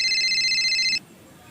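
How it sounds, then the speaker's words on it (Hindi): A telephone rings in a Chhattisgarhi comedy sketch, a steady bright electronic trill sounding for about a second and then cutting off abruptly into quiet room noise. "हां तू मन के ए रुको काकर फोन आथे।"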